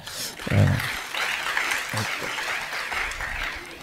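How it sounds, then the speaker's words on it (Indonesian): Audience applause at a live Ramadan religious study gathering, a broad continuous wash of clapping with a few low thumps, steady and moderately loud throughout. "Tepuk tangan dong."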